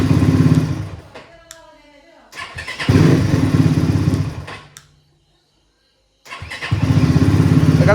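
A loud dirt bike engine revs hard in close bursts, with sharp throttle blips separated by short pauses and a full silence before it roars again; a voice is briefly heard between revs.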